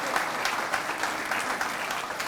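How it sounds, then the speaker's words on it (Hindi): Dense, steady applause from a church congregation during a Friday worship service, filling the whole short stretch at an even, lively level with no talk over it. "जोरदार तालियों से खुदा के नाम को जला दे"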